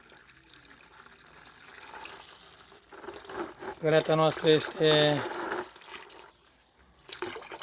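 Rainwater poured into a plastic bucket to make a homemade organic fertilizer for strawberries: a few seconds of loud splashing and gurgling with a person talking before and during it.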